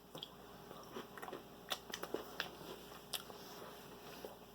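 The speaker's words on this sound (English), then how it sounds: "try a little bit of this cracker on its own" Someone bites and chews a broken cracker from a Humanitarian Daily Ration, giving faint, close dry crunches in an irregular rhythm over a quiet room hum.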